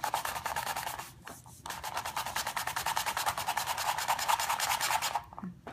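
Cutter rubbed back and forth over a tortilla to cut dinosaur-shaped chips, a steady close scratchy rasping that runs for several seconds with brief breaks.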